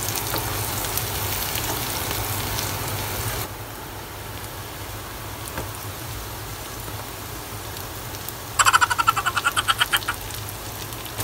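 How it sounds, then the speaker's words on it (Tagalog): Fish frying in a pan gives a steady, loud crackling sizzle that drops in intensity partway through, then flares briefly into sharper bursts of popping near the end. "Ayan na yung isda natin. Piniprito ko."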